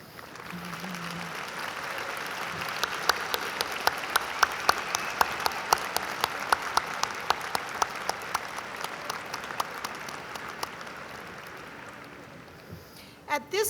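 Graduates at a university commencement ceremony applaud the audience, a long, broad wash of clapping from a large crowd in a big hall that swells and then fades out near the end.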